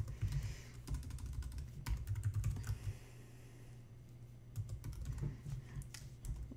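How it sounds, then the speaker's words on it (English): Close typing on a computer keyboard in quick clusters of keystrokes with a short pause in the middle, no voices. "I'm going to type in"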